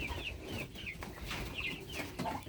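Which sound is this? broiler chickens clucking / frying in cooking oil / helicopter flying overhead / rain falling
broiler chickens clucking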